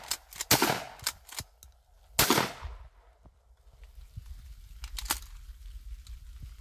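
Loud close shotgun blasts from a Winchester 1300 shotgun fired from the hip outdoors, two sharp booms early and a third about three seconds later, each with a short decaying tail.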